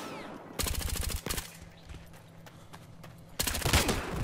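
Suppressed gunfire in the shooter game Battlefield Hardline, two rapid bursts of muffled automatic shots separated by a quieter stretch, close and fairly loud.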